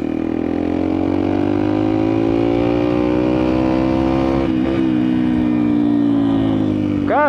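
Yamaha XTZ 125 motorcycle with a possible Fortuna aftermarket exhaust, a loud close engine roar that holds a steady drone and rises in pitch as it revs, with a sharp rev burst at the end.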